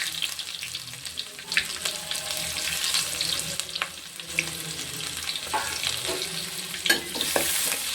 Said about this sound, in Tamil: வெங்காயம் வந்து நல்லா பொன்னிறமாக வேகணும்